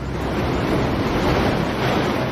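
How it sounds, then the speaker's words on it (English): Big ocean wave at Pipeline crashing over a shallow coral reef, a loud, continuous roaring wash of surf with blustery wind, close and unbroken for the whole stretch. "A 15-foot wave thunders down with thousands of pounds of force"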